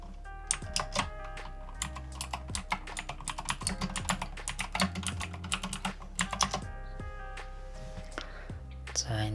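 Brisk typing on a computer keyboard, dense clicking keystrokes in quick runs with brief gaps, close and clear over faint background music.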